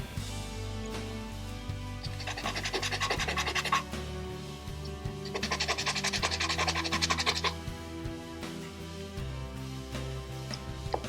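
Sandpaper rubbed back and forth over polymer clay, giving two distinct stretches of close, steady rasping strokes separated by a pause, over a faint background hum.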